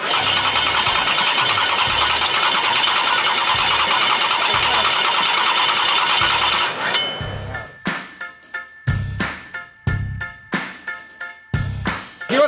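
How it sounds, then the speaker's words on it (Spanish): A car engine whose fuel injection isn't working is cranked and started with WD-40. A loud, sustained roar runs for several seconds, then gives way to a series of short, uneven bursts and sputters. "Poner en marcha un motor cuando no te anda la inyección."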